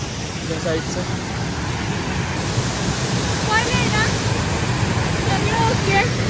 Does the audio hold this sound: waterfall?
yes